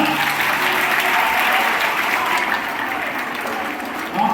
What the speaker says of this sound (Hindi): फिर से तालियां